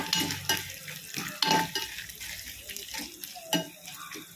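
Spices, coconut and tomato roast in a pan for a Karaikudi pepper curry, with a steady soft sizzle under repeated scraping stirs and sharp utensil knocks against the pan.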